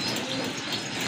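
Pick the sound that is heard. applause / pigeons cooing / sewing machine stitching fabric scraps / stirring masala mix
pigeons cooing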